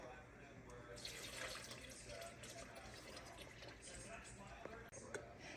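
Spring water runs from a tap into a container for a double sourdough recipe, a steady, quiet hiss of flowing liquid with faint drips, heard nearby in a kitchen.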